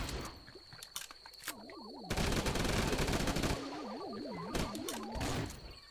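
Rapid bursts of Uzi gunfire in the mobile game Swamp Attack crackle in quick strings, loud and close, mixed with whooshing game effects and a wavering electronic tone.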